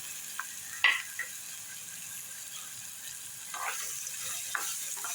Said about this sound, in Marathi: आता आपण हा कांदा घालून घेऊया